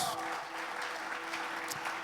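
A church congregation breaks into sustained applause during a sermon, the clapping dense and steady for the whole stretch without any voice over it.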